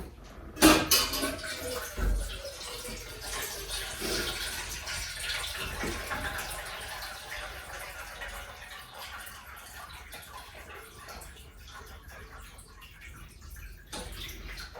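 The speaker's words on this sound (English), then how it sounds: "let me just fill up your other bowl then with water." Tap water running into a pet's bowl, a close, steady splashing stream that starts with a couple of sharp clinks and continues evenly throughout, gradually softening.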